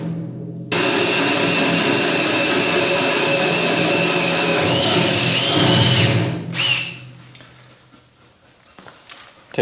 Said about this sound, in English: they might just be cordless, but those Makita drills have a lot of torque